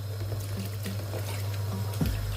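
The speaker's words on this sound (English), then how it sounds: "I'm gonna add a little bit of water" Water poured into a saucepan of prawns cooking for Jamaican pepper shrimp, a soft steady trickle and splash over a low hum of the pan, with a brief louder gush near the end.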